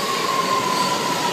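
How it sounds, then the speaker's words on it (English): A steady rumble of a subway train running in Washington D.C., with a thin high whine held throughout and no voices. "That's a big train."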